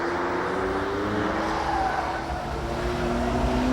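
A supercar engine roars at high speed on a circuit, a continuous, fairly distant drone with a steady engine tone and no clear gear changes.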